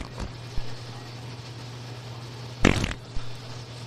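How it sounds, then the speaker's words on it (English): Recorded fart noises from a long compilation: a short blurt near the start, then a louder, buzzy, drawn-out one about two-thirds through, over a low steady hum. "this is 10 hours of fart noises"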